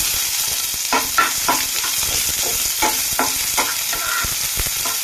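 Chopped onion and crushed garlic cloves fry in a pan and are stirred, giving a steady sizzle broken by repeated scraping stir strokes, close and fairly loud.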